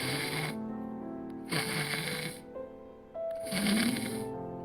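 A person imitates simple snoring, the even, continuous kind, with three steady rasping breaths in a regular rhythm, loud and close with no talk over them.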